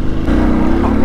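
A motorcycle fitted with rally rear suspension rides over potholes, its engine a loud close continuous drone with a brief bump in the sound early on.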